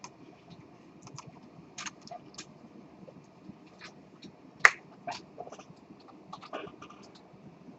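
Computer keyboard typing during a classroom lecture on programming, with scattered soft key clicks and one sharper tap, fairly faint and without speech.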